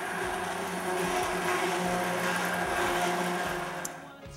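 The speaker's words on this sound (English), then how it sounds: "It's called an immersion blender." An immersion blender whirs steadily in a pot, blending a roasted chestnut and sweet potato bisque, a continuous close motor drone that holds even for about four seconds before easing off at the end.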